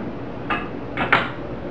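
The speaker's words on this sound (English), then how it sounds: "4 ounces of cream cheese. Give it a rough chop, just so it's easier to blend." Knife roughly chopping a block of cream cheese on a cutting board, three short soft knocks spaced unevenly, fairly close and quiet, no talking.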